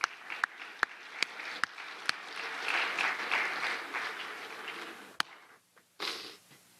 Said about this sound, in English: Applaud them.